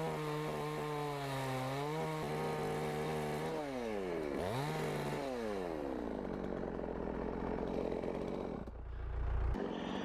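A chainsaw trims the end of a wooden fence rail into a tenon for a cattle yard mortise. The engine runs close and loud, its pitch sweeping up and down through several revs as the chain bites the timber.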